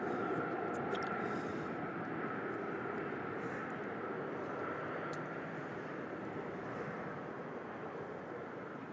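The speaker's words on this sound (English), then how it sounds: "See, it didn't take the old tri-jet long to stop." An old tri-jet airliner lands at Louisville International Airport and brakes on the runway, a steady loud roar of engine and rolling noise holding through the whole stretch, with faint voices beneath it.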